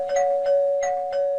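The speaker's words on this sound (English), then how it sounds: "You'd usually complain about needless doorbell abuse" A video game doorbell rings repeatedly, four bright chiming tones over a steady sustained hum, evenly spaced and close.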